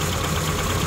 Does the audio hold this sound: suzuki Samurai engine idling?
yes